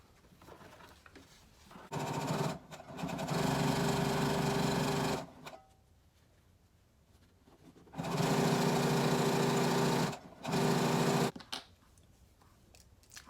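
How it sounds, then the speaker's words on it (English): A sewing machine runs in two bursts, stitching down the long edges of a fabric tote bag strap, each run steady and close with a pause between and a short second spurt. "All I need to do is just sew down the 2 long edges."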